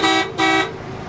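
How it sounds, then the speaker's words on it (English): Boat horn on the Hudson River gives two short, loud, close honks in quick succession, then cuts off. "I think he wants you to honk him away."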